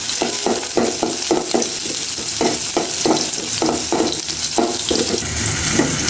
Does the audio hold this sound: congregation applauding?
no